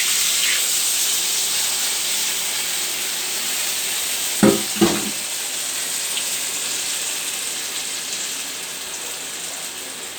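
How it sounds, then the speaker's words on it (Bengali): Marinated spices for a Bengali hilsa fish curry sizzle and hiss steadily in a hot pan after water is added, with a couple of brief clinks of a utensil midway. "আমি তার মধ্যে জল দিয়ে দিলাম।"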